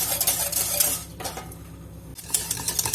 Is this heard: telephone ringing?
no